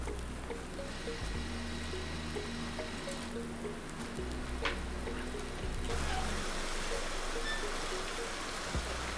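Steady rain hiss in Landwirtschafts-Simulator 19, a continuous wash of drops with low engine-like rumble shifting underneath and occasional faint clicks, no talking.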